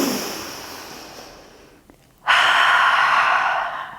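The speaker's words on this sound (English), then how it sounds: "take a deep breath" A single deep breath taken during a yoga flow: a long, soft exhale fading away, a brief pause, then a strong, airy inhale close to the microphone.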